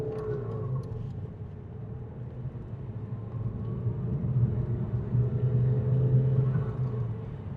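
Volvo C70 from the 1990s under acceleration, its engine giving a steady low rumble that swells and grows louder midway, then holds near and full without any talk.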